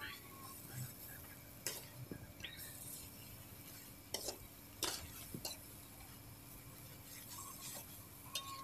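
Food with a little sugar stirred in a pan until its water cooks off, heard as faint, intermittent scraping and stirring strokes against the pan.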